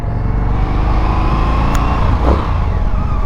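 An Indian FTR 1200 motorcycle engine runs with a loud, close, steady mid-pitched drone, rising briefly in a short rev near the end, with no talk.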